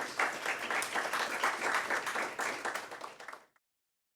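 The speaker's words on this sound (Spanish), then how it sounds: "Brindémosle un fuerte aplauso, por favor" Sustained applause from an audience at a book talk in Santa Cruz fills the room with dense, steady clapping for about three and a half seconds before cutting off abruptly into silence.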